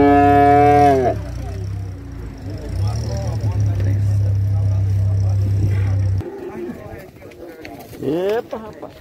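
Cattle at a livestock fair in São Benedito, Ceará, bellowing in loud, close moos, one long low call held for several seconds, with pigeons cooing nearby and people talking over the bustle.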